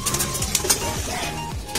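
Racing pigeons coo in short, low, throaty bursts close by, with a few faint rustles in the background.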